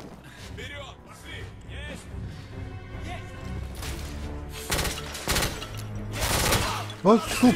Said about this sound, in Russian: если они даже выстрелы не слышат?